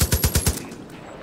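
Automatic gunfire in the video game Far Cry 5, a quick burst of five loud close shots in even rhythm, then a fading tail, with no talking.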